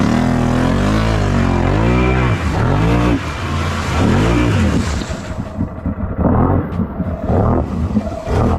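A built Can-Am off-road vehicle revving hard through a deep, thick mud hole, its loud engine rising and falling in repeated surges, then choppy bursts of throttle as it struggles.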